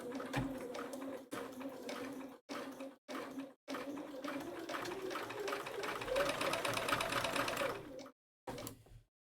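A sewing machine stitches fabric with a 5/8-inch seam allowance, its fast steady whir running in several bursts separated by short pauses, close and fairly quiet.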